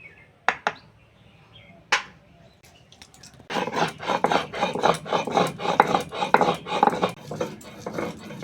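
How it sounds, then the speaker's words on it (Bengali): Cumin seeds are ground on a grinding stone in a home kitchen; a few sharp taps come first, then steady, close, rhythmic rasping strokes of stone on stone. "এবার জিরেটা বেটে নেব।"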